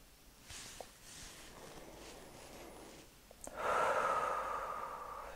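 Slow, soft breathing during a yoga exercise for the back: a gentle inhale, then a longer, louder, airy exhale, close and with no talk.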